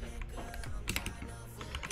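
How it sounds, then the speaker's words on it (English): A budget Amazon keyboard fitted with Akko Jelly Brown switches clacks in rapid, irregular keystrokes during a Hypixel Bedwars gaming session, close and clear with no talking. "I have the Razer Raver Mini and that Amazon keyboard."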